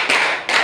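Group of workshop participants clapping a rhythmic pattern, two dense bursts of sharp, overlapping claps heard close and fairly loud with no talking.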